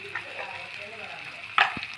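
Sliced onions sizzle with panch phoron spices in hot oil, a close, steady crackling fry punctuated by a sharp scrape of a spatula near the end.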